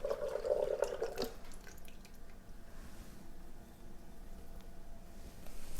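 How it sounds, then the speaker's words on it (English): Evaporated milk pours into a measuring cup in a home kitchen while making almond halwa, a short liquid stream lasting about a second before fading to quiet background. "So in that 2 cups, I'm going to add my evaporated milk."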